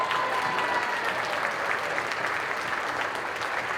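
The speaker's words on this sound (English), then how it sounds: "Let's give a round of applause for Kevin." An audience at an MLK Day event gives a round of applause: a full, continuous burst of clapping that stays loud and even for a few seconds, with no talking on top.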